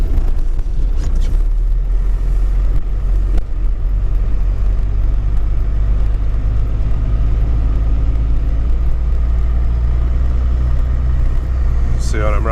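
A Cummins-powered Ford Excursion plowing snow in second gear at low revs gives a steady, loud diesel rumble and drone throughout, with a brief higher whine near the end.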